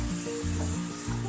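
Tomatoes sautéing with salt in a pan for potato and eggplant curry, a steady close sizzle with soft stirring scrapes, no voices.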